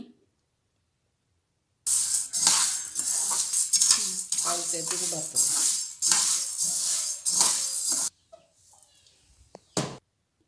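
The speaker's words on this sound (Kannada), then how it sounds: "ಹೆಸರು ಕಾಳನ್ನು ನಾವು ಫ್ರೈ ಮಾಡಿಕೊಳ್ಬೇಕು ಹೆಸರು ಕಾಳು ಸ್ವಲ್ಪ ಕೆಂಪು ಬಣ್ಣಕ್ಕೆ ಬರೋ ತನಕ ಅದನ್ನು ಫ್ರೈ ಮಾಡಿ" Moong beans fry and rattle in a pan for a ladoo, with loud, close scraping strokes of a spoon stirring in uneven bursts over a sizzle, then a brief quieter clatter at the end.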